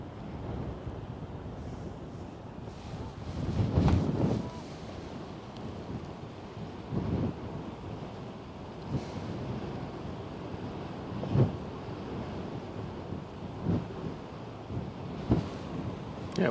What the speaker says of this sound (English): wind is definitely coming in now